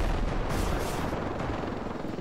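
An enemy helicopter in the video game Ravenfield: a dense, loud roaring rotor wash with battle noise blended in, steady throughout the short stretch with no talking.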